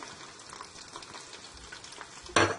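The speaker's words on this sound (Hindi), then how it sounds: "प्याज को लाइट ब्राउन होने तक हम इसको फ्राई करेंगे" Onions sizzling in hot oil inside a pressure cooker while cooking dhaba-style mash dal, a steady close frying hiss that swells into a louder, brighter burst of crackle near the end.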